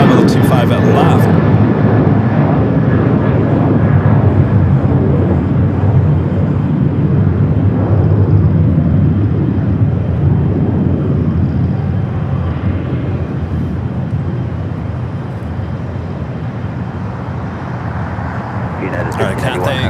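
A Boeing 757-200 airliner arriving at LAX from Newark roars steadily and loudly throughout, a broad continuous jet rumble that slowly eases, with a voice talking over it.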